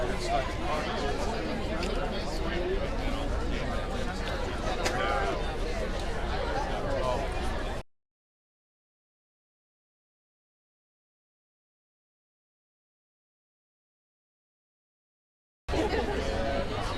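Steady murmur of crowd chatter with many overlapping voices surrounding the governor at a bill signing, continuous for about eight seconds, then dead silence, then the babble returns briefly.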